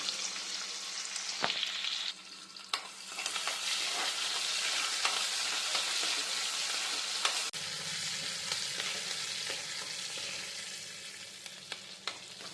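Chopped onions fry in hot oil with a dried red chilli and seasoning seeds, making a steady, close sizzle and crackle. Stirring sounds and scrapes against the pan come through now and then.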